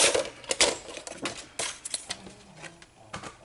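Cardstock being trimmed for a handmade card box, giving a run of short, crisp cutting and scraping strokes in an irregular rhythm, close and fairly loud, with no talking.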